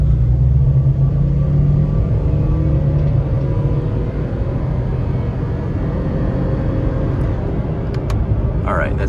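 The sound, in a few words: 2002 Honda Insight CVT car accelerating at full throttle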